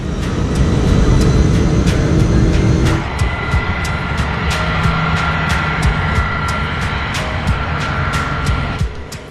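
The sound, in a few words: airplane taking off from runway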